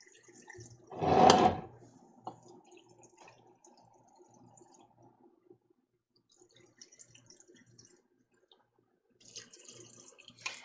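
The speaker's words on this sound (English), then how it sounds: "now all I'm going to do is I'm going to equally distribute into my jars this turkey broth" Turkey broth pouring into canning jars in a quiet kitchen: one short, loud burst of liquid splashing near the start, then faint clinks and small handling sounds, with a brief rustle near the end.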